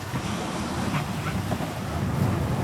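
Ocean waves wash steadily around a sailboat under way on an open-sea passage across the Mona Passage, a continuous rushing surf blended with wind buffeting the microphone, no voices.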